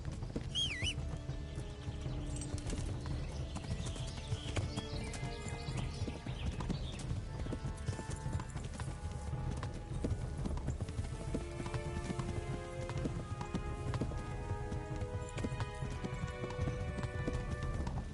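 Horse hooves in the medieval video game Kingdom Come: Deliverance, a steady clip-clop of trotting hooves continuing throughout, mixed with faint ambient game sounds.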